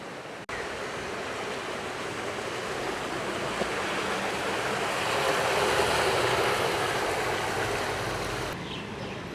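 A river rushes under a bridge in Kathmandu, Nepal, a steady, loud broadband roar of flowing water that swells slightly midway, close by and with no talk.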